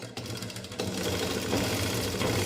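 Sewing machine running steadily at close range while stitching a pleated cotton nighty, a continuous fast whirring rattle that starts abruptly and holds without pause.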